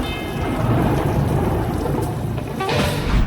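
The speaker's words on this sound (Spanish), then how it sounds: "El sonido de la lluvia, el trueno lejano y esa campana fúnebre que dobla lentamente" Steady rain pours down with a low, distant rumble of thunder rolling underneath, dense and continuous throughout.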